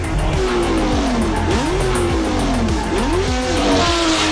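An air-cooled Porsche 908/3 race car driving hard, its engine note climbing and dropping through repeated quick revs and gear changes, loud and close throughout.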